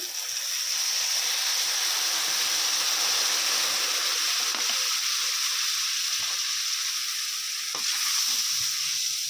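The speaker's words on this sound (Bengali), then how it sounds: "মশলাটা যাতে না পুড়ে যায় দিয়ে দিচ্ছি অল্প একটু জল" A little water hits frying masala for a mutton curry with papaya, setting off a loud, constant close sizzle and hiss, with occasional soft stirring knocks from a spoon in the pan.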